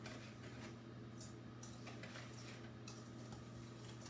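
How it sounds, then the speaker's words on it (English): Butter is whisked with brown and granulated sugar in a bowl, a faint, quiet run of light ticking and scraping clinks from the whisk against the bowl over a steady low background hum. "Now I'm going to whisk it all together."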